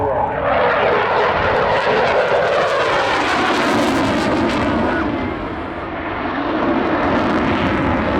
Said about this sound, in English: decelerating the jet now